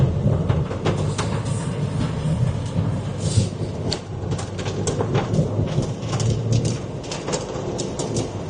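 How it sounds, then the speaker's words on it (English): Rain and rumbling thunder from the wrap-around rain bands of a Minnesota storm form a dense, steady wash of noise with low rolling rumbles, and no one speaks. "Here comes the wrapping rain bands."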